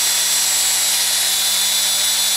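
A small drill boring into a die-cast Hot Wheels GTX 1 toy car body to mount BMW Z3-style twin roll bars, a steady high-pitched whine with rasping grind that runs continuously and close up, with no talking.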